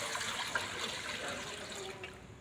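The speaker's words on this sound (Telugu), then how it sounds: "చిన్న గిన్నె పెట్టుకొని ఒక 1 లీటర్ వాటర్ పోయాలి" One litre of water poured into a small pot, a steady splashing trickle at close range that runs the whole time and tapers slightly near the end, with no talking.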